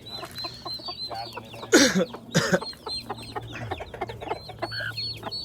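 Chickens clucking and squawking near a flock of fowl, one burst of louder flapping and scuffling, with soft background chatter from people.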